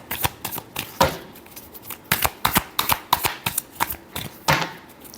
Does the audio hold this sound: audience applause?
no